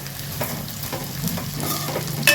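Urad dal frying in oil in a pan while being stirred, a continuous sizzle broken by repeated scraping strokes of the spoon, close and fairly loud.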